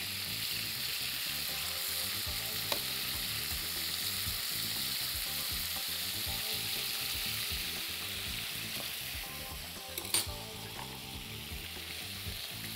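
Beef pieces sear in a hot pan for a black pepper cream sauce dish, giving a steady, close, dense sizzle with small crackles throughout and a brief louder pop near the end, with no voices.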